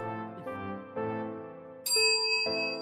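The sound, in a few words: bell ding sound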